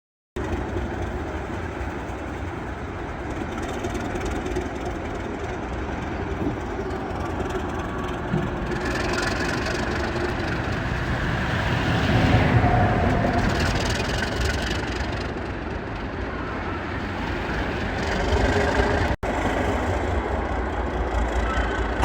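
An ALCO 251 diesel locomotive switches a freight train on the Minnesota Commercial Railway, its steady heavy engine drone rumbling throughout and swelling near the middle, with a brief sharp transient toward the end.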